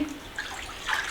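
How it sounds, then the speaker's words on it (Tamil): Water poured into a cooking pot in a home kitchen while a dish of pidi karunai is prepared, a brief soft splash and trickle, fairly close and faint. "தண்ணி ஊற்றிட்டு"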